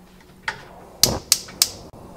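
Gas stove being switched on under a pressure cooker of aviyal, with one soft click followed by three sharp, evenly spaced ignition clicks close by in a quiet kitchen.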